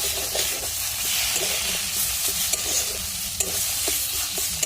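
Bean paste (chhim bata) sizzles and fries in a pan while being stirred, a steady hissing texture punctuated by occasional scraping knocks of the spatula, close and moderately loud.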